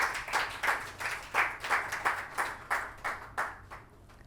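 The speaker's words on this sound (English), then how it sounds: "applause" Audience applause at a mobile app launch event for the Indian Cancer Society, heard as rhythmic, fairly loud group clapping in regular bursts that thin out toward the end, with no talking.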